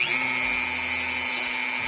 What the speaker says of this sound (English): we're gonna take our big sanding bit. So we're gonna kind of Dremel out the